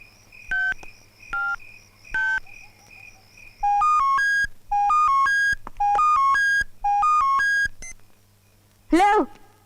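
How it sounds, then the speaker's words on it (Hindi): Several bursts of electronic telephone keypad tones in a film scene, short beeps first, then longer multi-tone dialing sequences in quick groups, clear against a quiet low hum, ending with a brief rising chirp. "जज साहब, उस दिन जब मैंने जेसिका को फोन किया,"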